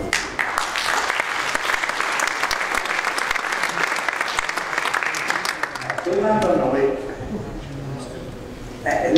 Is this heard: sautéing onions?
no